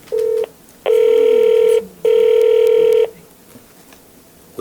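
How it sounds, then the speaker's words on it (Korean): A telephone call connects with loud electronic ringback tones: one short beep, then two long steady tones separated by brief gaps, clean and close with no voices. "한번 전화를 연결해서 우리가 대화를 나눠보도록 하겠습니다."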